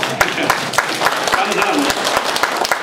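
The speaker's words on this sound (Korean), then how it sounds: "동의하시는 박수 치십시오." Lecture audience clapping in agreement with a speaker's point about a presidential achievement; dense, even hand claps with sharp individual claps standing out, steady and fairly close throughout.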